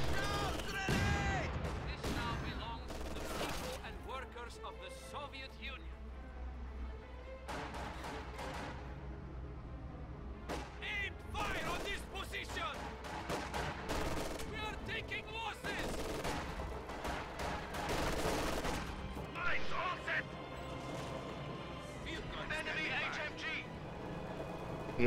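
Katyusha rocket barrages and gunfire rumble through a WWII real-time strategy game battle, with repeated bursts and booms over a steady low drone while a commentator talks throughout.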